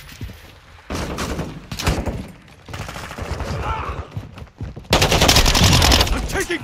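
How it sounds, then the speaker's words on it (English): Enemy gunfire in Modern Warfare 2: loud machine-gun bursts and volleys of shots in close succession, with a heavy sustained barrage near the end, mixed with voices. "I'm taking enemy fire!"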